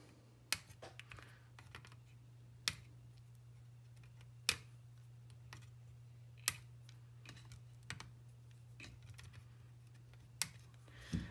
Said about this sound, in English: trim our leads.